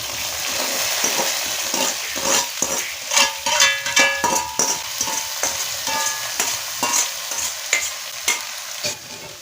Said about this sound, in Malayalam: അതുവരെ ഇടയ്ക്കിടയ്ക്ക് ഇളക്കി കൊടുക്കുക